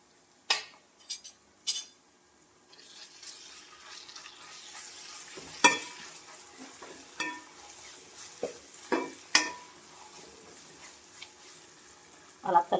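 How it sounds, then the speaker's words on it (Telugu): Onions with ginger-garlic and masala paste frying in a pan, a low sizzle broken by sharp clinks and scrapes of a spoon against the vessel as the mixture is stirred, close and intermittent. "అలా కలిపితే బాగా ఆరుగా వేగుతాయండి. అలా వేగనివ్వాలి."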